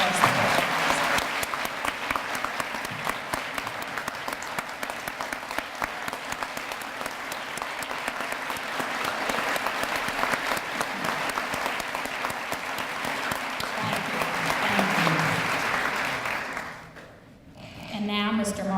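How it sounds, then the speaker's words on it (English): A large audience at a school-district awards ceremony applauds support workers in a long, sustained round of clapping that fades out near the end, giving way to a faint voice as a speaker resumes. "let's have another round of applause for all of our support workers"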